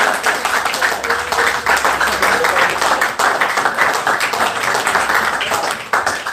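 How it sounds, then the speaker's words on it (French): A church congregation applauds continuously and loudly, a dense wash of clapping that holds steady for several seconds before easing slightly near the end. "Applaudissons pour notre Père"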